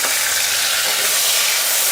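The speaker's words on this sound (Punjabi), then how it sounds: "ਇੱਥੇ ਮੈਂ ਇੱਕ ਮੀਡੀਅਮ ਸਾਈਜ਼ ਦਾ ਪਿਆਜ਼ ਜਿਹਨੂੰ ਮੈਂ ਬਰੀਕ ਚੌਪ ਕਰ ਲਿਆ ਸੀ ਉਹ ਪਾ ਦਿੰਦੇ ਆ" Finely chopped medium onion dropped into hot oil with crackled cumin seeds, frying with a loud, dense, continuous sizzle heard close up without any talk.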